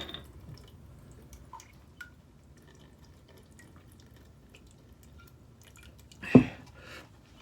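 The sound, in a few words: water dripping off a cut cabbage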